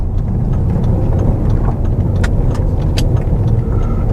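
A Mk1 Audi TT drives along a road on a test run, its engine a steady low rumble under broadband road and wind noise, with a few sharp ticks and bumps from the surface.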